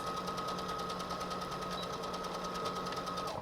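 Sewing machine running steadily as it stitches backwards and forwards along the front seam of a three-layer cloth face mask, a close, even rapid mechanical chatter with no talk.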